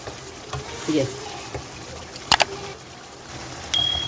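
Chicken pieces being stirred and fried in masala for a Kashmiri chicken curry, with soft scraping, a few sharp clinks against the pan and a faint sizzle underneath, fairly quiet and close.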